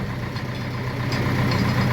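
A tractor engine runs steadily nearby, a continuous low chugging drone that grows slightly louder toward the end.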